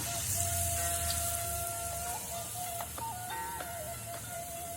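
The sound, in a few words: banana fritters (pisang goreng) frying in oil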